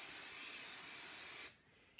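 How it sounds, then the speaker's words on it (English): Spray adhesive sprayed onto embroidery stabilizer while hooping a onesie, a continuous close hissing burst lasting about a second and a half that stops abruptly, followed by a faint click. "with the spray adhesive, we are going to spray on the stabilizer"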